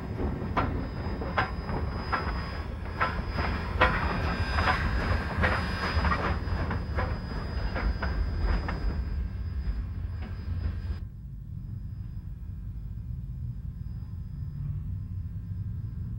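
Steam locomotive No. 489, a narrow-gauge engine at Chama, runs light without its train toward the servicing area, a steady rolling rumble with wheel clatter that drops suddenly to a quieter distant rumble.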